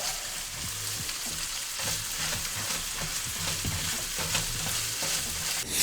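Chopped garlic sizzles in a hot pan while being stirred, a bright continuous crackling fry with soft scraping strokes throughout, close up and with no speech.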